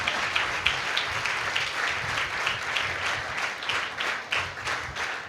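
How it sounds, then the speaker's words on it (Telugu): A church congregation at a training programme in Palakonda breaking into applause, a broad, steady clatter of many hands at moderate distance, sustained for several seconds without talk. "క్లాప్స్ కొట్టాలి అక్కడ"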